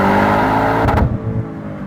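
A 2021 Audi RS7 engine pulling hard, a loud, close, deep rumbling roar that holds steady and then eases off as the revs drop.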